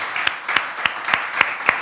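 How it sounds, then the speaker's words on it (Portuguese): A church congregation claps along at a Nova Vida church service in Rio, six sharp, evenly spaced claps standing out over a bright hiss of crowd noise, close and moderately loud. "Então aplauda bem forte o nome do Senhor"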